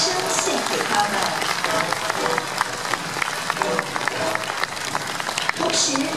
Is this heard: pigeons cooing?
no